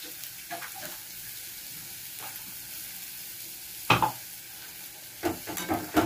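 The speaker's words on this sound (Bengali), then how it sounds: "এবার অল্প করে একটু জল দেবো, এটা মাখো মাখো হবে।" Water is poured into a pan of sizzling doi potol, a curry of pointed gourd cooked with cashews, giving soft frying and stirring scrapes, then louder splashing bursts of hissing as the water hits the hot pan.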